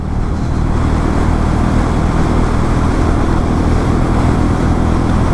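Royal Enfield Meteor 350 motorcycle at riding speed, a steady, loud broadband roar of engine and wind rush holding constant without a break.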